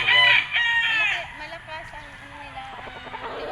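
A white Kelso gamefowl rooster crows loudly and close at a gamefarm sale, one drawn-out call, while someone talks over the tail end of it.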